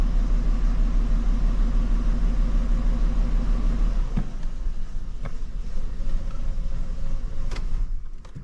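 A Nissan Skyline engine idles rough while down a cylinder, a loud continuous low rumble that cuts off abruptly midway, leaving quieter background noise with a few faint knocks and clicks.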